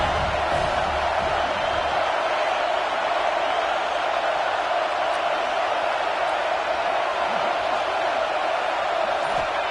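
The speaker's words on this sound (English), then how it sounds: "Third down and the crowd really getting into it." Stadium crowd at a college football game, Alabama against Georgia, roaring steadily on a third down, a dense wash of cheering that stays loud and constant throughout.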